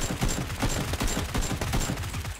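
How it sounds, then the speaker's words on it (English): Rapid automatic gunfire in the video game PUBG, a dense, fast rhythmic burst of shots that runs continuously and loudly through the whole moment. "Shots behind."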